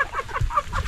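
A chicken clucks in short, close, loud calls, with a few rapid throaty notes outdoors.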